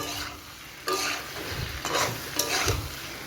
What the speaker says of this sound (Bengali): আমি এতে সয়াবিনটা দিয়ে একটু নাড়াচাড়া করে ভেজে নেব